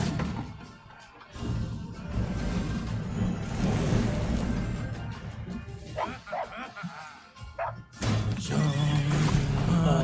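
A horse whinnies in the fantasy strategy game Thronebreaker, with loud, shrill calls rising among busy game sounds and a voice, then dropping away before a final burst.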